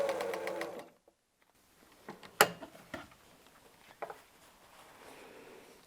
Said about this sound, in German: Das Ganze nehmen wir einmal mit zur Nähmaschine und nähen das ab.